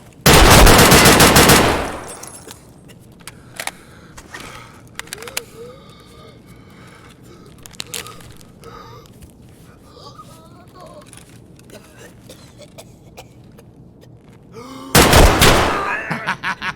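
Automatic gunfire from a firing squad in the video game Raid, with a loud sustained burst at the start and another near the end, separated by quieter game ambience and scattered effects.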